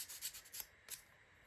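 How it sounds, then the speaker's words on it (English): A small wooden part for a ROKR Magic Cello music box kit is rubbed with sandpaper, giving a few quick, light, close scratchy strokes that fade into quiet. "Give it a little sand. Make sure it's nice and smooth."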